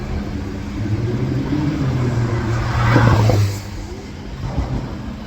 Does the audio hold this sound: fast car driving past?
yes